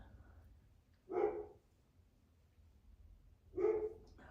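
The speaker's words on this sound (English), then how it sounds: "Oh, and there's the dogs again." Dogs bark in two separate short bursts about two and a half seconds apart, moderately distant and with no one talking between them.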